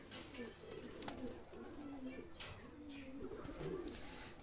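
A pair of pigeons, a red-necked hen and a golden cock, cooing in low rolling phrases that repeat several times, close by, with a few sharp high clicks in the background.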